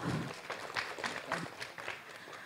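Light applause at an office gathering for a Mother's Day event, fairly quiet and distant, with scattered individual claps standing out from a thin background.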